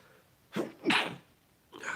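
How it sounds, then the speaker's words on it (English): A single sneeze, with a short sharp intake of breath followed by a loud burst, then a faint trailing sound. "I'm going to sneeze."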